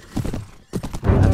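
Horse hooves clip-clopping in the Mount & Blade: Warband video game, from a lame, slow-moving horse. Loose rhythmic thuds arrive in two short bursts, with a louder, denser stretch of hoofbeats at the end.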